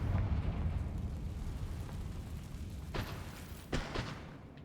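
A Confringo spell explodes in the Hogwarts Legacy game, a rumbling blast that fades into a low roar, followed by two sharper bursts near the end.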